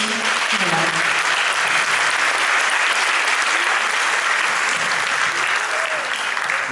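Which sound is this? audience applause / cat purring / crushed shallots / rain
audience applause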